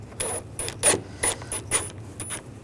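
Radiator mounting bolts on a 2008-2012 Jeep Liberty 3.7L V6 being snugged down with a ratchet, a series of quick metallic clicking bursts, close and fairly loud.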